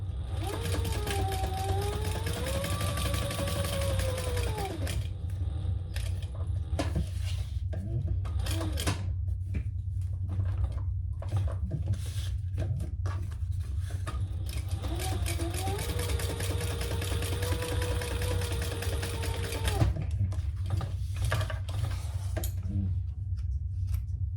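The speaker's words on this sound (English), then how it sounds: "So I'll just top stitch on either side." A sewing machine top stitches along both sides of a purple crossbody bag, its motor running in a steady continuous drone through most of the stretch, with a few brief pauses and small handling noises.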